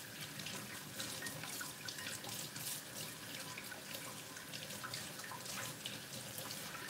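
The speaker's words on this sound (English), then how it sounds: "So I'm just gonna go ahead and get these potatoes here washed." Potatoes are washed under a running kitchen tap, a steady continuous stream of water splashing into the sink with small drips and rinsing sounds, close and fairly loud with no talk.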